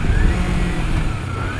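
A Kawasaki Versys X 300 adventure motorcycle ridden briskly on the road, its engine droning loud and close under heavy wind rumble, with a thin whine that climbs steadily as it accelerates.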